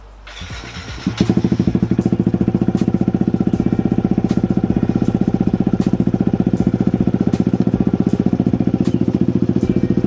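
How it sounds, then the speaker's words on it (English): A motorcycle engine turns over and catches, then settles into a loud, steady, close idle with a rapid, even exhaust pulse throughout. "So let's fire the bike up."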